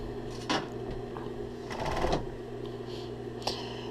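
A sewing machine stitching piping on a bikini: a short mechanical whirr of fast stitching in the middle, with a few clicks and handling taps around it, over a steady background hum.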